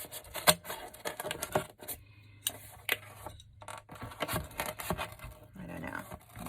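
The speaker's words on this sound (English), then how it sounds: "I'm going to get these scissors out now" Crisp, irregular snips and crunching cuts close up, scissors working through stiff material in short bursts with brief pauses between.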